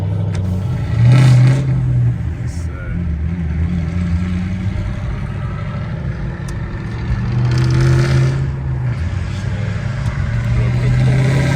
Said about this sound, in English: let's listen to this Cam Mustang right here.